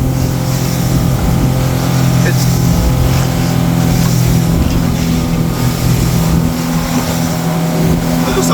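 A motorboat engine drones steadily and loudly nearby on a fishing trip in Boston Harbor in big waves, a continuous low hum with wind and water noise throughout.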